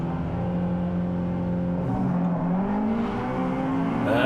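A Honda Integra DC2 Type R race car idles and revs at about 5,000 rpm at the start at Cadwell Park, a steady close engine drone heard from inside, its pitch dipping then climbing as it pulls away.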